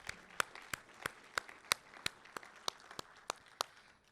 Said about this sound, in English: how about one more round of applause for the Chamber Board of Directors